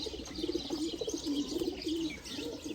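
Ababeel breed pigeons, VIP breeder birds kept by a Sialkot pigeon keeper, coo steadily in repeated soft throaty phrases, close and continuous with faint chirps around them.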